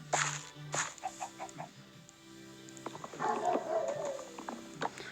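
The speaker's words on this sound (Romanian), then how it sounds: "de unde vin atâtea găini?" Minecraft chickens cluck in short repeated bursts, moderately faint, with blocky game sounds and some scattered clatter between calls.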